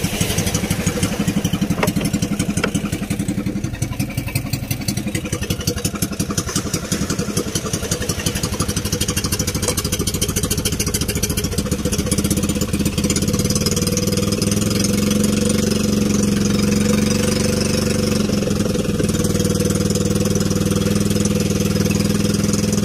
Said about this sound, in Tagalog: Ang makina.